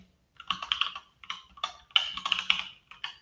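Someone types a project name on a computer keyboard while setting up a Blazor web project: a short, irregular run of crisp, close keystrokes in small clusters, with no one talking.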